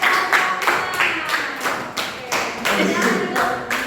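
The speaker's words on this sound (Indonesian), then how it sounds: "Tepuk tangan buat" A class claps for a student group after its presentation, the claps coming in short uneven bursts close by, with voices mixed in.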